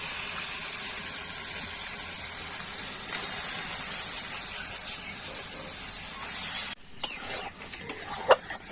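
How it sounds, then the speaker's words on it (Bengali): Meat sautéing in a home kitchen pan, a steady broadband sizzle with stirring scrapes, shifting to sharper clinks and bursts of stirring near the end, moderately loud throughout. "কষাচ্ছি এখন"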